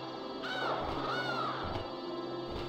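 A bird in the video game Discworld II gives two drawn-out, harsh caws in quick succession over a steady background hum, with no one talking.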